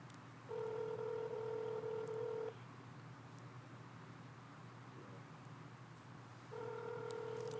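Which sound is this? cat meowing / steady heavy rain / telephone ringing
telephone ringing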